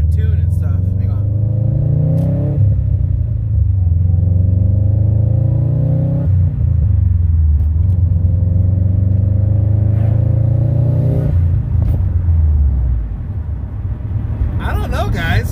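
Subaru STI engine fitted with a Grimmspeed bypass valve, a steady loud rumbling drive with rising and falling revs and gear changes throughout, heard from inside the car.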